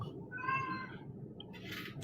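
A cat sitting on a garage door track gives a single drawn-out meow, moderately close, over a steady low rumble of background noise, followed by a brief hiss-like burst.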